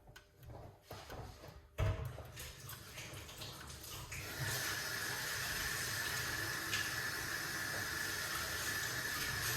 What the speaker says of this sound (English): Let's rinse off these ingredients.